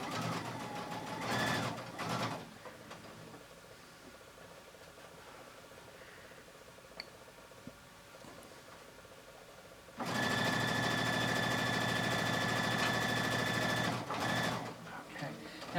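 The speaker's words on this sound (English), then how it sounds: "I'm just showing it to you on the sewing machine." A home sewing machine stitches fabric pieces of a face mask, its steady motor whir running in two loud bursts, one short and one longer, separated by a quieter pause.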